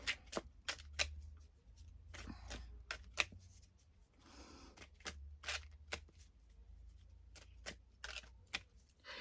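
Cards are shuffled for a tarot-style reading, with a quick run of crisp riffling snaps and slaps, close and fairly quiet, broken by a brief softer rustle midway.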